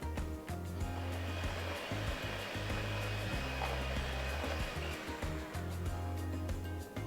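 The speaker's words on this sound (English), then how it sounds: "Then add 1/4 cup of heavy cream and mix until smooth." An electric mixer whirs steadily and continuously as it beats mini Boston cream pie batter of self-rising flour and heavy cream until smooth, its motor hum shifting slightly in pitch.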